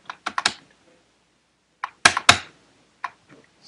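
Someone bangs the keys of a computer keyboard while playing Minecraft, producing sharp, close clacks in short irregular clusters separated by silent gaps.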